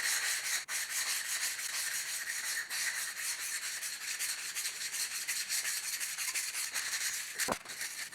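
A pottery jar lid ground against its fired base with fine grinding paste, giving a steady close gritty rubbing hiss with a few brief bumps, no voices.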